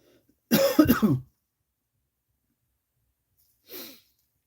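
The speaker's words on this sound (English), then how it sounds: "Sorry for the cough" A single close cough burst, followed after a long silence by a fainter, shorter cough or throat clear.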